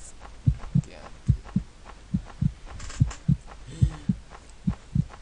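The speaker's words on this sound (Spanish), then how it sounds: "Sus latidos son más fuertes." Heartbeat effect in a video game: deep, paired thumps beating in an even rhythm roughly twice a second, close-up and alone over a quiet background hum.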